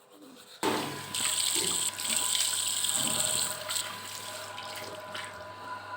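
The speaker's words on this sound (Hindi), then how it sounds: "फिर साफ़ करने के बाद मैं चल गई ब्रश करने।" Water from a tap runs into a sink while someone brushes their teeth. The flow starts abruptly and continues as a steady, close rushing splash with slight swells.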